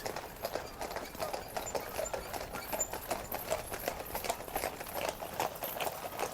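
Horses' hooves clip-clop steadily on a road during a royal cavalry inspection procession, a brisk, regular rhythm of many hoofbeats at moderate distance with carriage noise in the background.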